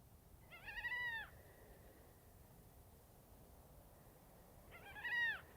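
Two eerie, wailing gull cries, distant and separated by a long pause, rise out of a quiet background hiss at night in the Atacama Desert.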